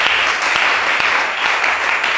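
Congregation applauding steadily during a teaching church service, dense sustained clapping with a few sharper claps standing out, loud and close throughout with no clear talk over it.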